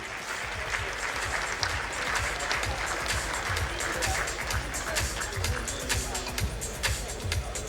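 Loud, dense applause from tables of guests at a jewellers' charity gala evening, sustained and even throughout with a few voices mixed into the crowd noise.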